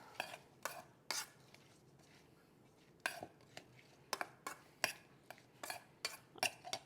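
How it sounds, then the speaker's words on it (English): Cucumber salad tossed with a spoon in a bowl, irregular bursts of scraping and clinking, close and moderately loud, with quiet pauses between and no talk. "We're just going to mix this together."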